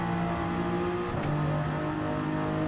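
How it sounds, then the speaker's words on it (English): A racing car engine in Gran Turismo 7 drones at high revs, its pitch dropping briefly as it shifts, then holding a steady buzzing tone. "Can also listen to what he's doing with the revs."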